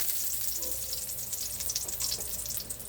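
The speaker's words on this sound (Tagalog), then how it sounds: "nagigisa ako ng bawang" Garlic sautés in a hot pan, giving a loud, dense, continuous sizzle and crackle that holds steady throughout with no talking.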